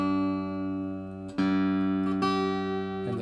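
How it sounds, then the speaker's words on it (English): Vintage 1980s Japanese Aria carved solid-wood archtop guitar played unplugged, a few sustained chords with clear ringing overtones, each new strum entering over the fading one, close and moderately quiet with no talking. "you can hear that tone. It's kind of very interesting archtop tone"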